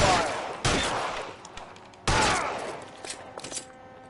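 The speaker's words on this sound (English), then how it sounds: "I'll lay down some suppression fire." Suppressing gunfire in the video game L.A. Noire: two loud bursts of rapid shots, each trailing into echoing reverberation, followed by scattered fainter gunshots.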